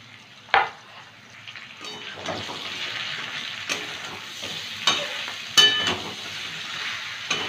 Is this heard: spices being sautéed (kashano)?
yes